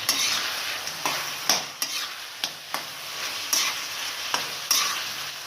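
Chicken keema sizzles and fries in a karahi with green chillies and coriander while a spoon stirs it, scraping the pan in sharp, irregular strokes about once a second over a constant close hiss.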